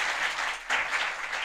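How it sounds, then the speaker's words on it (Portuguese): Spontaneous audience applause after a talk at a seminar fills the room, a dense, steady clapping from a crowd, near and continuous, with a brief swell partway through. "eu não pedi a salva de palmas não, foi espontâneo"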